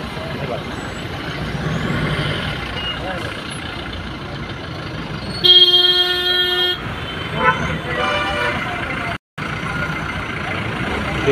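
Busy road traffic with a steady rumble of vehicles and a loud horn blast lasting about a second mid-way, plus scattered smaller toots and a voice nearby.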